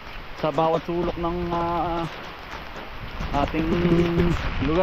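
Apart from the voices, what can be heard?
heavy rain during a typhoon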